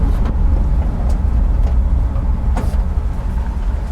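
A 1958 Volkswagen Transporter T2 split-windscreen van with a 36-horsepower engine drives along with a loud, steady low rumble from inside the cabin, shifting gears, with a faint rattle from the back seat mount and no talking.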